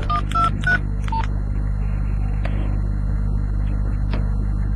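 A telephone being dialed, several quick keypad tones at the start followed by a steady low hum of background noise.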